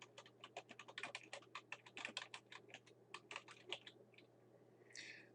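Fingers type on a computer keyboard, a rapid, irregular run of sharp close clicks and taps over a faint steady hum, ending with a brief soft rustle.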